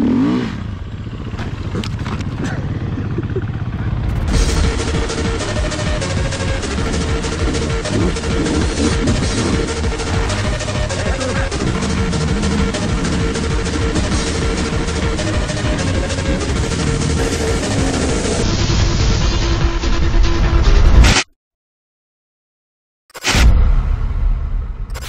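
Motorcycles heading off for the second half of a group ride in the Glasshouse Mountains after a lunch stop: a loud, steady engine drone with wind rush and stepping rev changes, cutting out briefly near the end.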